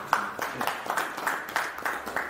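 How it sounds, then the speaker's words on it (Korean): A crowd applauds to welcome a guest at a first-anniversary memorial gathering for Dr. Seo Kwang-sun. The clapping is steady and moderately loud and swells in regular waves, almost rhythmic, with no voices over it. "큰 박수로 모셔줬습니다"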